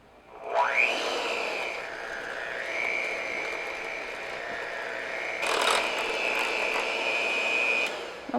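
An electric mixer beating a room-temperature egg into thick pumpkin bread batter, a steady whirring motor that spins up at the start and holds a close, even hum, with a brief louder surge partway through.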